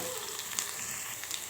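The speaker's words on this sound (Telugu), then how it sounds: "ఇప్పుడు ఉల్లిపాయలు వేగినాయండి." Chopped onions and green chillies fry in a pan for an okra curry, giving a brief, fairly quiet, even sizzle with no voices.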